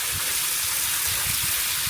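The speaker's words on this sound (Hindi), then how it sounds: "शावर तो मैंने एवी ऑन कर लिया है, सिर्फ पीछे वाला टब ऑन हो भी जल्दी भर जाएगा" A shower and a bathtub run at once, water from a lake gushing in a steady, continuous rush with no pauses or voices.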